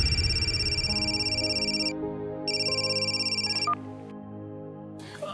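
A phone rings through an earpiece during a call, a steady warbling electronic tone in two bursts with a pause between, followed by a click and quiet, with no talking.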